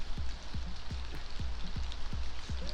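Autumn rain falls under a tree in Portland's Nob Hill, a steady close patter with heavier drops landing at a regular beat on a nearby surface.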